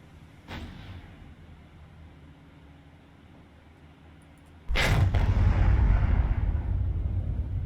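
Naval guns fire in the War on the Sea game: a sharp distant report early on, then a loud heavy blast near the five-second mark followed by a sustained low rumble that lingers to the end.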